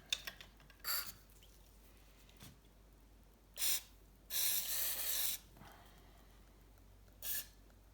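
WD-40 sprayed onto a 1984 Honda C70 E Street Cub motorcycle during a build. Several short, close hissing spray bursts are separated by quiet gaps, one lasting about a second, and nobody talks.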